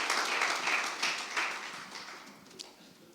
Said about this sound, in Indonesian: Boleh tepuk tangannya di extend buat para worship leaders dan musicians.